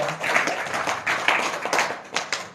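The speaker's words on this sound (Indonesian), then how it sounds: "tepuk tangan sekali lagi buat beliau" A small audience at a hypnosis training session claps in brief uneven bursts, fairly close and moderately loud, with a few sharp individual claps standing out near the end.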